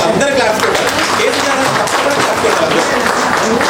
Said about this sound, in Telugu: ఒక్కసారి క్లాప్స్ కొట్టాలి, అందరు క్లాప్స్ కొట్టాలి